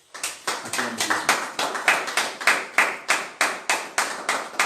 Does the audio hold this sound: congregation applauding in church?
yes